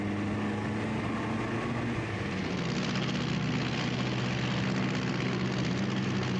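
A video game aeroplane's engine drones steadily throughout with a low propeller-like rumble, constant and fairly loud, with no voices.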